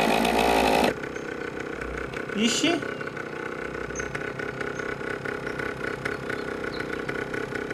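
A motorcycle in the video game My Summer Car, struggling to climb a slope, drones with a steady mid-pitched engine hum after a loud opening burst. Someone talks over it.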